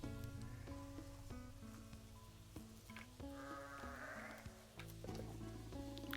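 Goat-like Ibexi creatures bleating in Sable, several wavering bleats in succession over a tonal game music bed, fairly close and clear with no talk.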